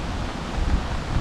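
Brief gusty wind at a campsite in Khao Yai National Park, just before rain, buffets the microphone, a broad steady rush with low thumps, no voices.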